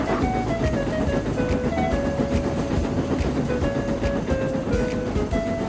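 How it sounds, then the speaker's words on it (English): A train rolls steadily along the rails with a rhythmic clickety-clack and rumbling wheels, continuous and fairly loud, with faint squealing tones over the top. "And Gordon backed onto the train."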